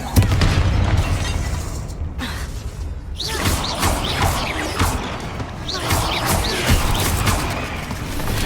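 Confringo blast spells go off inside a tomb in the video game Hogwarts Legacy: a loud booming burst and crackling impacts, followed by a dense, continuous rumble of debris and ambient game sound.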